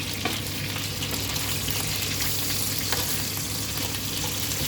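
Vegetables frying in a fresh pan for a creamy vegetable sauce, an even, continuous sizzle with occasional faint stirring taps, close and steady with no talking.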